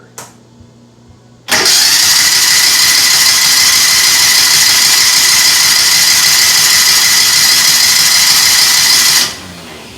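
Kawasaki FE290D engine from a Mule 500 utility vehicle, just after a carburetor repair, catches and starts, then runs loud and steady at a constant idle for several seconds before cutting off abruptly.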